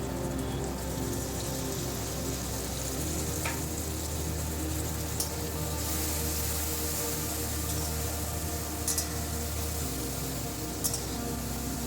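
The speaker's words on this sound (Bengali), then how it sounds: "এবার ওই মিশ্রণটা কড়াইতে দিয়ে দেব।" A wet spice paste of turmeric, chilli and cumin with water hitting hot oil in a wok alongside frying pumpkin and potato, giving a steady loud sizzle with a few sharp utensil clinks, close up and without talk.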